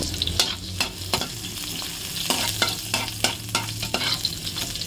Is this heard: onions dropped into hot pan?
yes